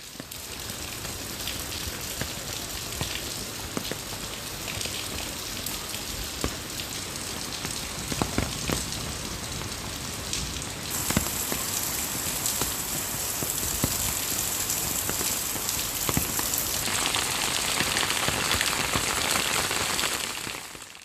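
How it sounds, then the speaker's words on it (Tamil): Heavy rain pours down for half an hour at night in villages near Vandavasi, Tiruvannamalai district, amid gusty winds: a dense, steady hiss of rain striking surfaces with scattered louder drops throughout, no talking. "அரை மணி நேரத்திற்கு மேலாக கனமழை கொட்டி தீர்த்தது"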